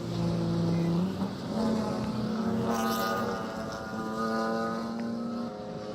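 The 9.4 Motorsports car in a WRL endurance race at High Plains Raceway, its engine droning loud and steady as it runs through into turn 4, pitch sliding as it passes.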